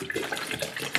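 Tap water runs briefly into a glass, a short splashy gush of about a second with no talk.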